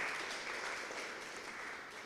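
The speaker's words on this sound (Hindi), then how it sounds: "सबसे पहले जोरदार तालियों से शुक्रिया अदा करते हैं हमारे विशेषज्ञों का" Audience at a farmers' question forum in Fatehabad on stubble management claps together in a steady, fairly faint round of applause that lasts about two seconds, with no voices over it.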